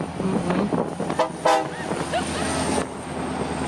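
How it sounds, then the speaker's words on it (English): A train runs along an Alaskan railroad, its rumbling wheels and a brief horn toot heard from nearby over steady rolling noise. "Oh, look, we're catching up to the train."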